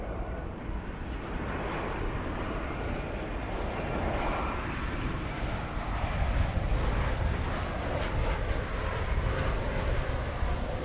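A DHL cargo airplane on an ABX flight passes at the airport, its engines giving a steady broad roar that swells slightly midway and holds loud throughout, with no talking.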